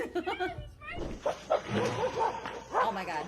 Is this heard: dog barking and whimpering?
yes